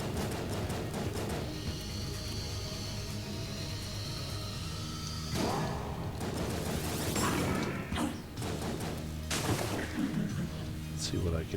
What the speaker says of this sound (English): I'm going to shoot her once and then reload